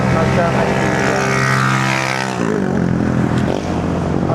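A small motor engine drones steadily and loudly throughout, its pitch shifting slightly midway, with a voice talking over it.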